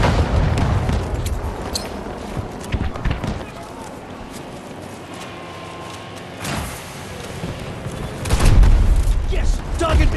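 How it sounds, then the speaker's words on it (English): A target vehicle blows up in Battlefield 2042, a deep boom under ongoing gunfire and battle noise, with a second heavy blast swelling near the end. "Target vehicle destroyed!"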